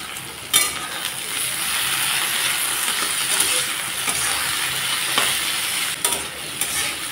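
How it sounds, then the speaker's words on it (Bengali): Potatoes and eggplant frying in oil in a pan, a constant close sizzle broken by sharp scraping and clinking as a spatula stirs them. "আলুগুলোকে 1 মিনিটের মতো ভেজে নিলাম। এখন দিয়ে দিচ্ছি বেগুন।"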